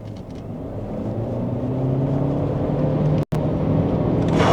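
BYD Shark 6 AWD plug-in hybrid ute pulling away from a standstill, a steady low road and drivetrain rumble building smoothly with a brief dropout near the end, heard from inside the cabin with no talk.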